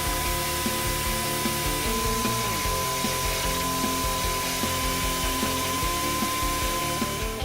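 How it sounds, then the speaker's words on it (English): A grinder widens an access hole in the frame rail of a 2014-2018 Subaru Forester during trailer hitch installation, a steady, loud, continuous whine held throughout without pause. "Use a grinder tool to widen the access hole."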